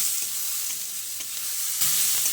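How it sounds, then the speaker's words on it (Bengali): Potatoes and radish greens fry with onions in a pan, giving a continuous close sizzle with intermittent scraping strokes as everything is stirred together, no talking. "আমি এর মধ্যে আলু আর মূলো শাকটা দিয়ে দিচ্ছি তারপর সব কিছুকে একসঙ্গে ভালো করে নেড়ে চেড়ে মিশিয়ে নিচ্ছি"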